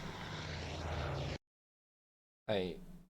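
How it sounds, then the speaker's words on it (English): Aircraft engines in the naval war video game Task Force Admiral, a steady droning propeller engine roar that cuts out into silence, then returns loud and sweeping briefly near the end. "What was those other engine sounds?"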